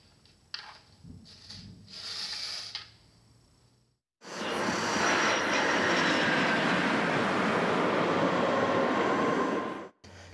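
A homemade maglev model train starts with faint clicks and brief hums, then a loud, steady whooshing, buzzing run sets in for several seconds before cutting off abruptly near the end.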